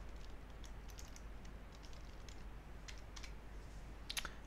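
Faint, scattered keystrokes on a computer keyboard during data entry, clicking in short irregular bursts with a final cluster near the end over a quiet background hum.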